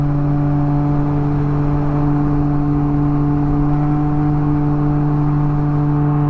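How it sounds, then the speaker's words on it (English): A loud, steady engine and exhaust drone from a Can-Am Ryker three-wheeled motorcycle with a barky exhaust, with a constant low hum, heard close and continuously throughout. "With the exhaust being so much louder, I feel like I'm going faster."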